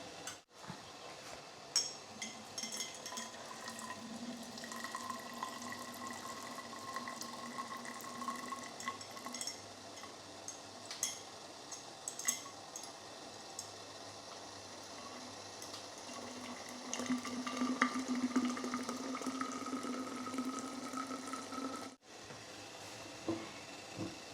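Grape juice runs from a steam juicer while the grapes steam, a soft continuous trickle and bubbling of liquid with faint ticks, steady and fairly quiet throughout before briefly dropping out near the end.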